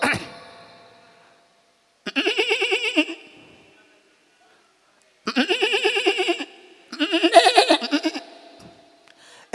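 A voice imitates a goat bleating in a comic routine, giving three quavering nasal bleats of a second or two each with silent gaps between, close and loud.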